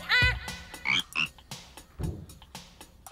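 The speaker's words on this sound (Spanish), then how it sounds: "Oh, encontraron a nuestra rana perdida." A cartoon frog croaks in a series of short, bouncy, separate calls, close and clear, with springy chirping squeaks between them from an animated Chuggington scene.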